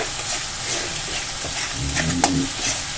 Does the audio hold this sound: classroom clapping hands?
no